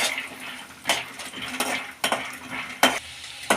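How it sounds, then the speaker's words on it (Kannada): Peanuts roast in cooking oil over a medium flame while a metal spoon stirs and scrapes the pan in several sharp, rhythmic strokes over a soft background sizzle, with no voices. "ಈಗ ಕಡಲೆಕಾಯಿ ಬೀಜ ಹಾಕ್ಕೊಳ್ಳೋಣ. ಇದನ್ನು ಚೆನ್ನಾಗಿ ಮೀಡಿಯಮ್ ಫ್ಲೇಮಲ್ಲಿ ಹುರ್ಕೊಳ್ಳೋಣ."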